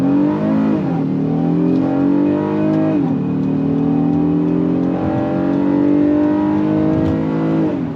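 A 2025 Honda Odyssey Elite V6 minivan pulls away from a dead stop under throttle, the engine note climbing steadily through several rising gear sweeps, loud and continuous with no talk over it.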